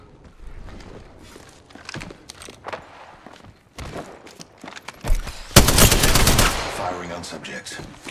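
Apex Legends gunfire with repeated bursts of automatic shots and single cracks, growing to a loud sustained volley, mixed with footsteps and game effects.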